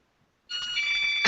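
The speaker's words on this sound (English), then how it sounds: "doorbell's ringing, sorry" A doorbell chimes during a live indoor interview, a bright sustained ringing tone that starts abruptly after a brief silence and holds loudly to the end.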